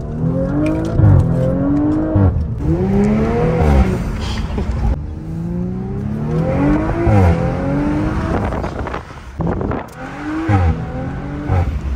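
A supercharged Audi S4 with performance modifications pulls away hard, its engine note rising and falling through repeated surging revs over several gear changes, loud and close.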